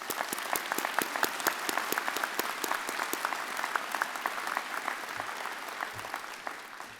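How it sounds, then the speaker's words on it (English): Applause at a university convocation ceremony: a steady crowd clapping with dense, overlapping claps that sound even and fairly distant, with no talk over them. "Let's give them a big round of applause."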